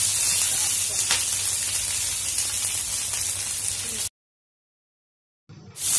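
Curry leaves and pandan leaves sizzle loudly in hot oil in a pan for a dry fish fried rice, a continuous crackling hiss that cuts off abruptly into silence before briefly returning.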